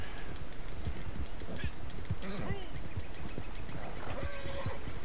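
Hooves of a horse in Red Dead Online clip-clop in a steady, even rhythm throughout, moderately loud amid ambient game sounds.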